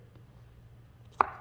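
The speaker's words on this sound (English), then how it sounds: "I have been chopping this up smaller" A single knife chop on a cutting board while zucchini is cut into smaller pieces, one crisp close knock after a quiet stretch of low room hum.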